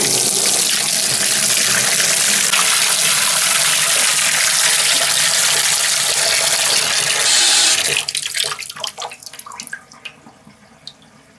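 A tap on a utility sink runs hard into the basin, a loud steady gushing rush for about eight seconds before shutting off into trailing drips and gurgles as the water drains.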